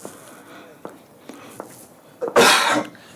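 A single sharp, loud sneeze bursts out near the commentary microphone during a county cricket match between Derbyshire and Durham, following a few faint taps and rustles.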